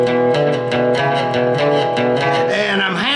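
Lap steel guitar played with a hammer-on across the 4th and 5th strings in a blues lesson, bright overdriven notes ringing in a short phrase, ending in a sliding bend, heard alone without talk.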